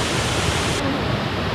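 Water thunders steadily down the fifth waterfall at Erawan Falls, Thailand, a close, broadband rush that is heavier at first and then slightly muffled.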